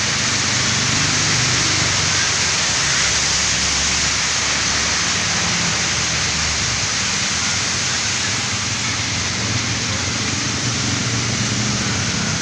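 Heavy rain pours down outdoors, a dense, steady hiss that fills the whole stretch without pause, loud and close, with a faint low engine rumble from passing traffic underneath.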